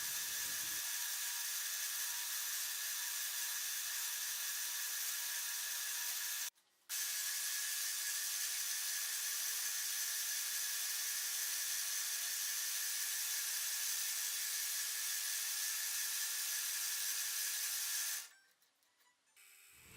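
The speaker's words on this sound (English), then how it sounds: "Here I'm drilling the hole for the mortise for the side rails" A power drill boring a 25 mm mortise hole in wood for a table's side rails whirs steadily, pausing briefly once, then running on before winding down at the end.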